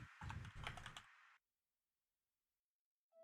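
Fingers type a quick burst of clacking keystrokes on a computer keyboard, close and clear, then stop and leave near silence before a faint click at the end.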